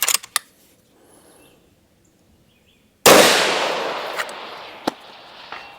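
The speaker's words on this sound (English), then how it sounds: "Let's go ahead and shoot 2 shots" A rifle fitted with a WOOX Furiosa Ultra chassis fires outdoors at a 600-yard range: a single loud, sharp report with a long rolling echo. A few faint clicks come before it, and fainter pops follow.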